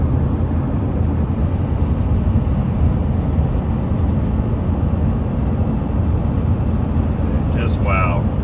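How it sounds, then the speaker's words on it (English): A 2008 Jaguar XJ 350 cruising at about 70 mph on the interstate, a loud, steady low road and engine rumble with continuous wind noise inside the cabin. "We're rolling about 70 right now down the interstate"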